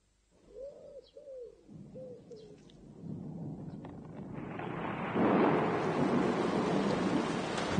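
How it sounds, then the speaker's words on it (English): A rain shower from a 1980s TV advert opens with a few soft pigeon-like coos, then a hiss of rain swells and grows steadily louder until it becomes a full drenching downpour. "Or even a drenching from this shower."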